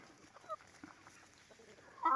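Chickens cluck softly in a farmyard coop, a few faint scattered calls rising to a louder cluck at the end, with no voices over them.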